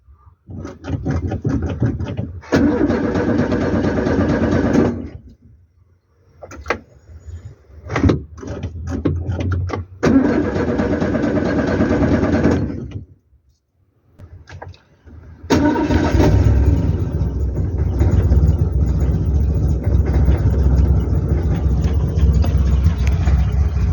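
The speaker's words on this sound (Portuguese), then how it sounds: "o carro funcionando, a luz da bateria não apaga, a rotação dele tá um pouco baixa também" Car engine, with a battery warning light that stays on and slightly low revs, cranks several times with pauses between attempts, then catches and settles into a loud, steady idle close by.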